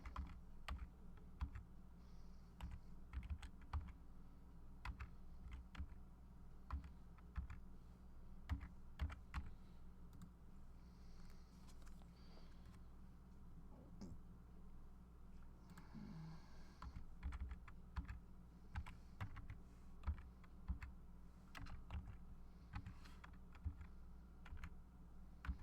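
Steady keystrokes on a computer keyboard as codes are typed in, a quiet, continuous run of close clicks and taps with no speech, all at a low level.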